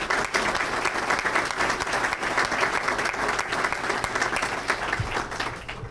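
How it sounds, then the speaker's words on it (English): Sustained applause from a crowd, steady dense clapping throughout at an even, fairly loud level with no speech over it. "I'd like to give these folks a round of applause as well."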